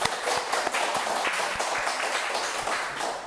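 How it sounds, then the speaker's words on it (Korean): A church congregation at a Friday evening prayer meeting claps together, a dense, steady patter of many hands that continues without pause for several seconds. "우리 다 같이 한번 박수 한번 합시다."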